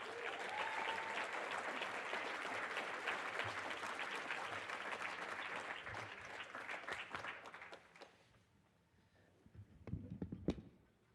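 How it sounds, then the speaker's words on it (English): An audience applauds for Mike Goff at a running club gathering, dense sustained clapping that carries on for about eight seconds and then fades to a few scattered claps and bumps. "Let's give Mike Goff a great big round of applause."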